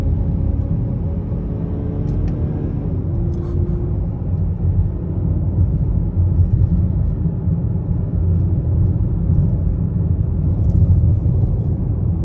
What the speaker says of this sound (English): It's just once the boost kicks in, this vehicle really starts to pull.